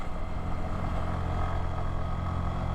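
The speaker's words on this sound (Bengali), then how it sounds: "একটা একটা করে চাঁদের গাড়ি উঠতেছে যা দেখলাম।" Chander Gari jeeps grind up a steep hill road in Sajek, their engines a steady, loud, unbroken rumbling drone throughout with no voices.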